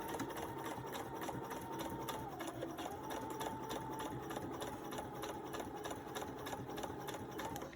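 A sewing machine runs steadily, stitching a seam on a homemade fabric face mask, its motor humming with a continuous rapid needle chatter throughout, close and unbroken.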